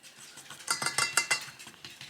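A fork beats cinnamon roll batter in a bowl, striking the sides in a quick run of bright metallic clinks and scrapes that grow louder in the middle and then taper off.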